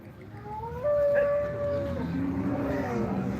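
A Holstein Friesian cow at a cattle market in Loni lets out a drawn-out, tonal moo, loud and fairly close, over a steady murmur of market noise.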